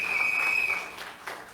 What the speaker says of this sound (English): Clap yourselves.